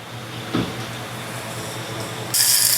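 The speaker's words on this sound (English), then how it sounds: "And now I'm gonna go ahead and blend." A blender mixing ingredients with chicken bouillon runs with a steady mechanical whirring at moderate volume, rising into a harsher, brighter roar near the end.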